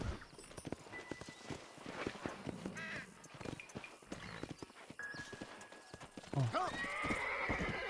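A horse is ridden in Red Dead Redemption (the first game). Its hooves clip-clop in a quick steady rhythm, with a brief whinny among the game sounds, while someone talks over it.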